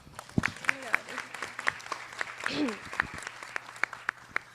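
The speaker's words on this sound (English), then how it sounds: "Let's give yourselves a round of applause." Scattered, fairly faint applause from a community audience at a city council district debate, with individual claps and a few voices and whoops mixed in over a low room hum.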